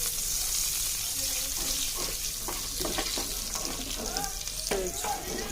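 About a spoonful of ghee sizzles in a pan with finely chopped dry fruits and dates roasting, giving a steady close crackle and hiss with light stirring and a voice now and then.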